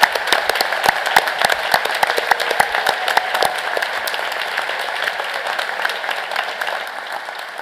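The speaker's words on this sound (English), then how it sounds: "We can give them all a round of applause." Graduation ceremony audience breaks into a round of applause, many hands clapping at once in a loud, dense burst that gradually thins and softens toward the end.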